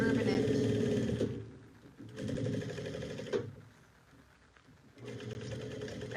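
A sewing machine back stitches a quarter-inch seam on a bucket bag, running in three close bursts of whirring separated by short pauses, with a voice talking in between.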